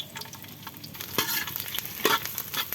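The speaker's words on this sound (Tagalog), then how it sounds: "Igigisa natin yung bawang" Garlic sizzles in a hot pan while being stirred, with a steady crackling fry and scraping utensil strokes, close and moderately loud.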